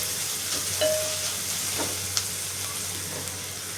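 Onions sautéing in a pan for urundai kulambu give a steady, soft sizzle of frying. A few faint stirring clicks sound through the hiss, and no one speaks.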